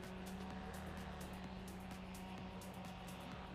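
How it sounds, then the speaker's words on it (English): An engine runs at full power during a slalom run at the FAI Slalom World Cup pre-event in Bornos, a steady, faint, continuous drone with a constant pitch and no talk. "We can hear the engine on the full power."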